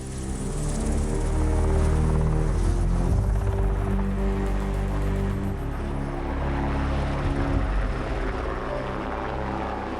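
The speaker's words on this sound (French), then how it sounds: "L'hélicoptère de Matt emmène l'ambassadeur du Japon et ses collaborateurs au camp militaire de Port-Bouët" Helicopter flying to a military camp at Port-Bouët, a loud steady rotor and engine roar with a low thumping drone that holds throughout, no voices.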